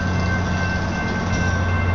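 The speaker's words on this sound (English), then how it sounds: "I looked up and realized the train, I think they're testing out the Sunrail" A SunRail commuter train rolls past in Orlando, a steady, loud, close rumble with a sustained tonal hum and no pauses.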